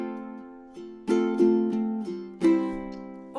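Bright plucked ukulele strings strum the same four chord several times at uneven intervals, each strum ringing and decaying before the next, close and clear.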